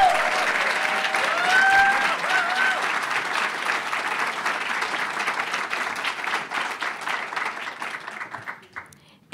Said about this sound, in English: Can we have another round of applause for Ayodele?